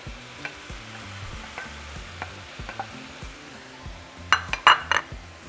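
Beef for bistec ranchero con papas fries in a pan with its juices cooked off while a utensil stirs it. Gentle scrapes run over a continuous sizzle, and a few loud metallic clanks against the pan come near the end.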